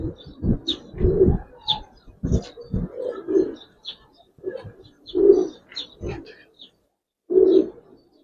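Giribaz pigeons coo close by in short, soft, repeated bursts spaced a second or so apart, interrupted by gentle fluttering and handling noises in a quiet room.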